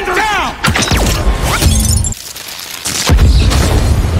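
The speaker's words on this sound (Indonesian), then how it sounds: "sehingga menyebabkan ledakan yang luar biasa dan menewaskan Maria" A laboratory explosion in a Sonic film, set off when a Chaos Energy tank is struck by gunfire, arrives as loud shattering bursts and booming blasts within a dense, busy action mix where voices also sound.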